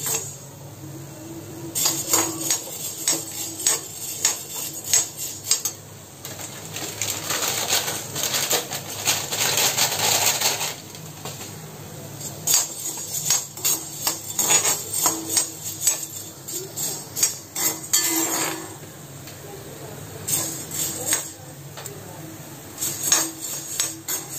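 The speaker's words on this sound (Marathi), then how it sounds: "मिरी तेलावरती चांगली करपायची नाही, तर सारखी ढवळत राहून ती चांगली भाजून घ्यायची" Black pepper roasting in oil in a pan, stirred constantly with quick scraping and clinking against the metal, interspersed with crackling patter in uneven, recurring bursts.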